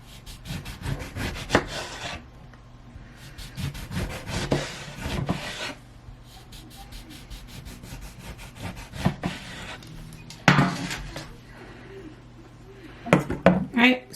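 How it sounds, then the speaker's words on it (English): Knife strokes slicing fruit on a cutting board come in short bursts of rhythmic scraping and tapping, close and fairly quiet, with pauses between batches. "you're just going to cut small slices"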